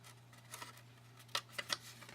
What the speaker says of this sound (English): So I cut the triangle out here and I cut a piece off of this.